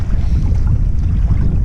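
Wind buffets the microphone at sea during float tube fishing off Île de Ré in August, as swell builds and the water turns murky, making a steady, heavy low roar throughout with no talk.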